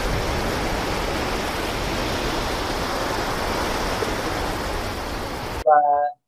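Sea waves rolling and breaking, a continuous loud broadband wash of surf that holds steady, then cuts off abruptly to a brief voice at the end.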